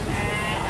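Goats bleat at a Bojonegoro livestock market where traders from outside the area gather, in a loud, dense wash of continuous bleating from a crowded pen.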